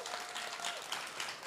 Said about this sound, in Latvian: Aplausi, lūdzu.